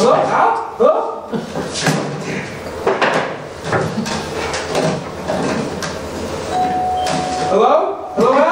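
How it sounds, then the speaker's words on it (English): Doorbell chiming in an old comedy film scene, a short bright tone partway through, set among thuds, door sounds and overlapping voices calling out. "That's the doorbell"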